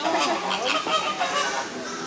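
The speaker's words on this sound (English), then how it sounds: "One's making a noise over there. Just saying. Probably a swan. Or flamingos, I guess." Honking calls of a swan or flamingos at a wildlife park in Florida, a few harsh nasal honks at moderate distance, close together and alone without talk.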